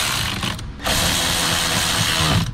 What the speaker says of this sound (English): I gotta get these two screws back in